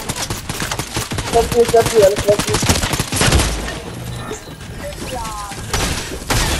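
Rapid bursts of gunfire and thudding impacts from a Fortnite match, dense and loud throughout, with players talking over the shooting.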